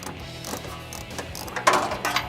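A ratchet loosens a bumper bracket bolt on a 2007-2018 Jeep Wrangler JK with a short series of close mechanical clicks and a sharper burst of ratcheting near the end, no voices.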